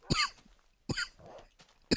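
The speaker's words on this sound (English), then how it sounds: "Oh my god, I have a bad cough." A person coughs sharply three times close up: a first burst, a second one about a second later and a third at the end, with faint rasping breaths between.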